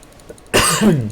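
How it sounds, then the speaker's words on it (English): A single sharp, harsh cough bursts out after a brief quiet moment, close and loud, with a raspy tail. "Cough a little bit."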